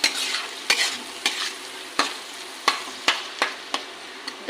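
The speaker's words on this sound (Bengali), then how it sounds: "এবার ভালো করে নেড়ে চেড়ে কষাবো মশলাটার সাথে আর এই চর্বিটার সাথে সুন্দর করে কষাতে থাকবো।" Spices and goat fat being stirred and fried in a pan for ghugni: a steady sizzle with about nine crisp scraping stirring strokes at an uneven rhythm, close and fairly loud, no voices.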